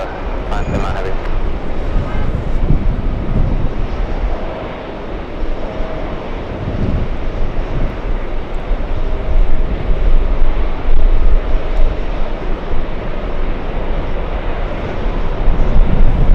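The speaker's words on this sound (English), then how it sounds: "The 747 freighter is landing up." A Boeing 747 freighter lands at JFK airport, producing a broad, sustained engine rumble that swells and falls with wind buffeting, fairly loud and continuous for the whole stretch.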